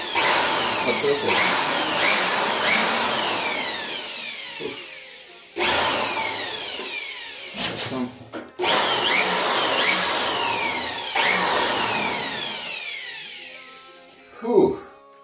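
A DEKO DKBL600 electric air blower blasts dust out of a computer's CPU fan in loud, close, whining bursts that cut off and restart, ending with a short final burst.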